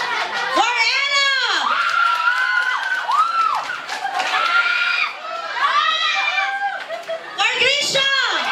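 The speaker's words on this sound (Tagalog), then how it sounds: "Malakas na palakpak, malakas na hiyawan" A group of children cheering and shouting in loud, rising high-pitched voices, with bursts of excited cries and some clapping mixed into the noisy crowd sound.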